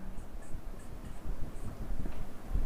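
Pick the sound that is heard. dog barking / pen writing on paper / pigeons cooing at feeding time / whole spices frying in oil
pen writing on paper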